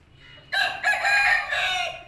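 A single Aseel rooster crows close by, a loud drawn-out call that rises and holds for about a second and a half, with faint background noise and no talking.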